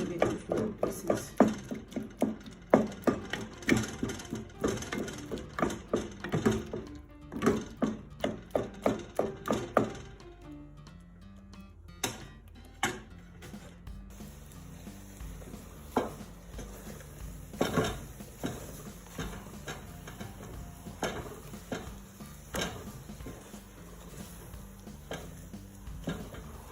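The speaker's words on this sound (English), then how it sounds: "keep breaking the bananas slowly by slowly into small pieces" Cooked matoke bananas are broken up and mashed in a pan, heard as a long run of quick clinking utensil taps against the metal that thins out into scattered knocks and scrapes.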